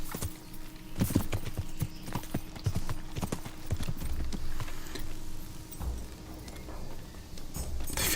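Horse hooves clip-clop in the video game Kingdom Come: Deliverance in an irregular, steady rhythm over a constant low background hum, with no one speaking.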